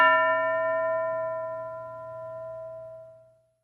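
A single school bell strikes once and rings out with a clear, steady metallic tone that fades slowly over a few seconds in an otherwise quiet room.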